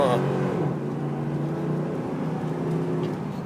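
A 2004 Dodge Ram 2500 4x4 pickup with a 5.7L Hemi, carrying about 10,000 pounds, pulls away from a stop with a steady engine drone that rises in pitch as it gains speed, close by from inside the cab.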